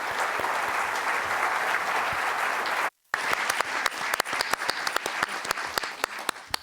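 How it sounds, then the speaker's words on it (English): An audience at a public library literary panel event applauds the panelists, a sustained wash of clapping that cuts out briefly and resumes as sharper, more distinct claps. "Let's give a round of applause to tonight's panelists."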